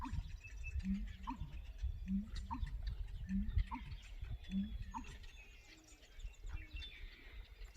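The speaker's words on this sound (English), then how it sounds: "Oh, now I hear an owl." An owl calls in a backyard, a series of about five low, evenly spaced hoots, faint and distant over quiet outdoor background.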